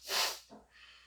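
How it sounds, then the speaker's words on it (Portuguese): A single timed breathing-exercise inhalation, a loud airy rush through the nose that swells and fades, followed by a quieter second breath, with no speech. "então inspiração em tempos"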